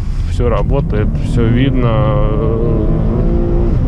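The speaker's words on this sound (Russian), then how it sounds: "Мотор прет как бешеный" A Cadillac's engine roars hard under heavy acceleration, its rising revving tone sweeping upward and sustained throughout, with someone talking over it.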